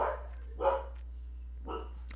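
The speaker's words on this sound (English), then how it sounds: "My dog's going crazy." A dog barks three times in quick, separate bursts, moderately loud and fairly close, set against a quiet indoor room with a steady low hum.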